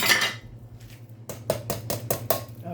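Sausage, white bean and potato soup stirred in a pot, heard as a spoon scraping, then a regular series of about six knocks and clinks against the pot's side, close and clear, with no talking.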